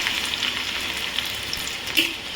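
Garlic cloves, about eight and chopped small, frying in hot oil, a steady loud crackling sizzle with a few brighter pops, close and uninterrupted.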